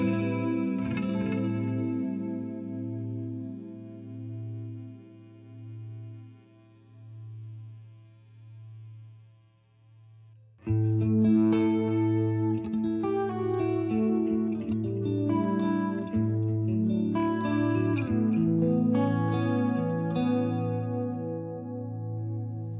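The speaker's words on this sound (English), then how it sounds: "So we'll go to this memory delay." Electric guitar through a memory delay effect on a Fender Tone Master Pro, a sustained chorused chord ringing and fading with wavering echoes, then a new burst of strummed notes and repeating delayed trails.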